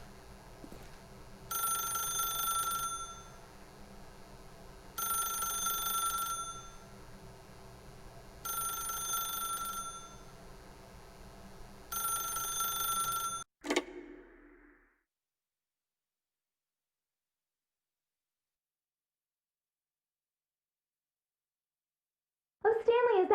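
Ringing telephone in The Stanley Parable, four evenly spaced long bell bursts over a low hum, then a click as it is answered and silence follows.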